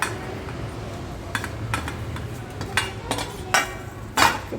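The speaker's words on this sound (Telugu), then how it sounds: "కారం ఉప్పు ఆవపిండి పసుపు వేసి కలిపి ఈ ఆరిన గుమ్మడికాయ ముక్కలు అందులో పోసేసి" Dried pumpkin pieces are tossed with chili powder, salt, mustard powder and turmeric in a metal vessel, with scattered sharp clinks and scrapes of a utensil against the dish over a low steady background hum.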